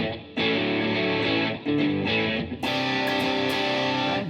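Electric guitar on a single-coil pickup in the out-of-phase position, played through a saturated tube distortion pedal for a crunchy, moderately driven tone. Loud sustained chords ring out, with a fresh strum partway through and no voices.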